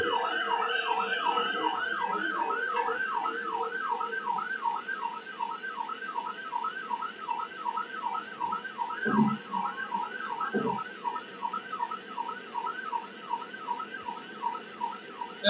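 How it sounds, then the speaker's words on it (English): Police sirens wail continuously behind a red Chevy pickup, a rapid repeating yelp cycling steadily throughout, with a couple of low thumps partway through; no talking is heard. "This guy really ain't getting the hint of the sirens behind him."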